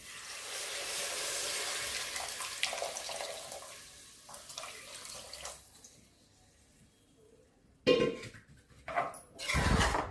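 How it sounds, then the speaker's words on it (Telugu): Milk pouring steadily into a metal pot for several seconds, a soft continuous splashing stream, followed by a few clanks and louder sloshing bursts near the end. "పాలు పోతాం దీంట్లో, మీగడ పాలు మొత్తం."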